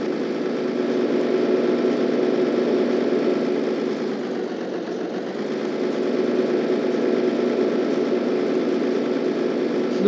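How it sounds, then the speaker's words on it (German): Tractor engine in Landwirtschafts-Simulator 13 (LS13), a steady droning hum with a slight dip midway, continuous and fairly loud with no speech. "So fahre ich Traktor."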